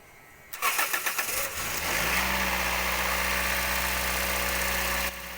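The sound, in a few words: car engine starter cranking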